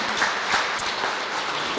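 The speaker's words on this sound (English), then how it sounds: "I think we got to give him a round of applause" Applause from a community audience at a PG&E public safety power shutdown meeting in Middletown, honoring Supervisor Simon: dense, steady clapping that fills the room at an even level, with no voices over it.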